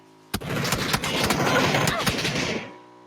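Sustained gunfire in a third-person shooter game, a sharp opening shot followed by a dense, continuous stream of rapid reports and booms that cuts off after about two seconds, with voice activity mixed in.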